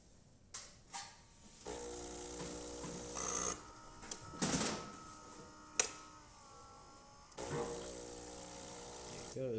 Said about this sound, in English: Now we're just going to let it brew a shot.